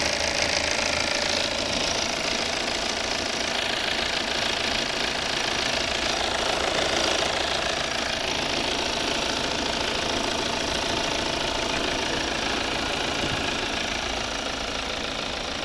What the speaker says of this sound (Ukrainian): Дуже добре тихо працює двигун.